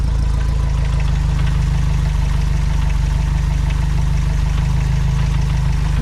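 A Renault R8 engine idles close up, loud and steady with a low rhythmic thrum and no change in pace throughout.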